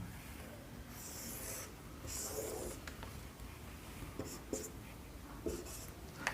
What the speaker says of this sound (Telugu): అందుకని నేను పిహెచ్ డయాగ్రామ్ గీస్తున్నాను.